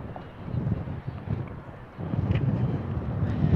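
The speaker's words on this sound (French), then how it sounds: "it starts to be quite windy here at the track." Steady low wind rumble buffets the microphone at an outdoor 200-meter race track, a continuous muffled roar that grows slightly stronger partway through with no clear talk.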